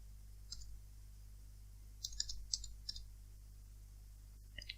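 A computer mouse clicks several times in faint, scattered bursts, with a low steady hum beneath and no voices.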